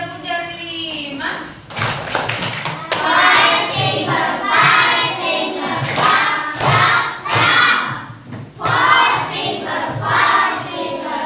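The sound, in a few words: children doing a five-finger clap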